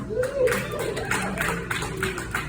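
An audience claps for a United States Army veteran introducing himself, a light patter of scattered clapping mixed with murmuring voices.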